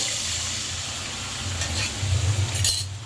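Onion fries in hot oil for a fish curry with cauliflower and beans, giving off a steady close sizzle with a low bubbling rumble and a few brief stirring scrapes.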